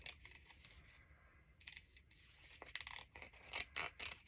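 Quiet, close-up snips and rustles of scissors cutting carefully around shapes in paper from a catalog, with irregular small clicks and paper movement.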